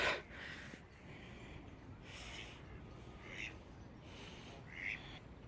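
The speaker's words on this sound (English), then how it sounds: "Just a congregation of ducks." Distant ducks quack in a few short bursts over steady outdoor background noise, faint and scattered rather than continuous.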